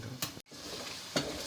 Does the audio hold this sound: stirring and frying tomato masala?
yes